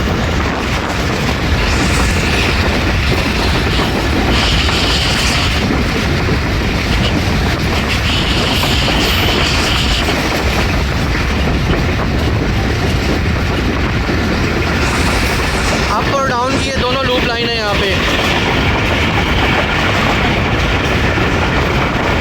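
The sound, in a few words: train passing through Kharian railway station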